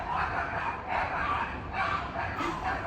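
Dogs bark near the wharf in San Francisco: about four rhythmic barks, moderately distant, over a constant outdoor hiss.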